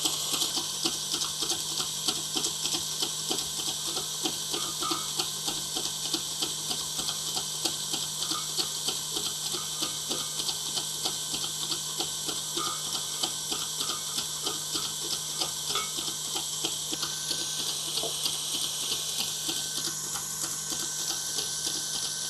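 An electric beater whirs steadily and close, with a constant high-pitched motor whine and rapid regular ticking of beaters in the bowl as sugar is added to cream cheese frosting, no voices.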